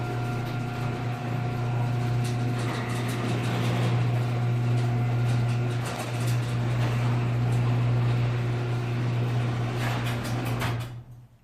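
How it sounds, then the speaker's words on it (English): A garage door opener raises a garage door with a continuous motorized hum and rumble that stays steady, then stops abruptly near the end. "now that it's all done, garage door up."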